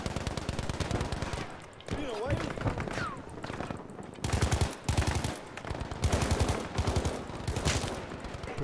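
Battlefield V gunfire on a combat map: repeated loud bursts of automatic fire and single shots in quick clusters, broken by brief lulls, with voices mixed in.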